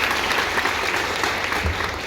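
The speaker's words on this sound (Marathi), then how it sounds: "टाळ्या स्वतःसाठी वाजवा एकदा." Steady applause from an audience at a Marathi literary gathering in Buldhana, a dense continuous clatter of many hands clapping, fairly close and sustained throughout.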